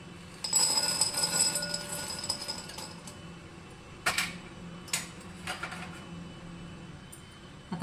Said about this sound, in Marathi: आपल्याला शेंगदाणे टाकून घ्यायचे.